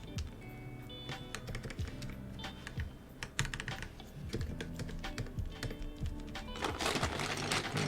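Typing on a Sesame Ergo keyboard fitted with lubed and filmed Gateron Milky Yellow switches, rapid irregular clacking keystrokes close up, growing busier toward the end, with no talking.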